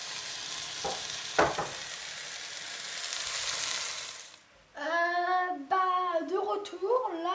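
A pot of lamb stew boils over onto the stovetop, giving a broad, loud hiss and sizzle with a couple of knocks, then cutting out as a voice starts talking.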